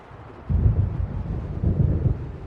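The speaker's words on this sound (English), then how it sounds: "It seems there's a storm coming." Thunder from an approaching storm in Alan Wake Remastered rolls in as two deep, rumbling swells about a second apart, heavy and fairly close, with faint wind and rain underneath and no voices.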